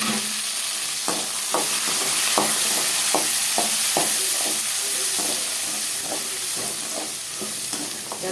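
Tomatoes and small onions fry loudly in a pan, a dense continuous sizzle with repeated sharp spoon scrapes and taps against the pan at an irregular pace, close up and without any voices.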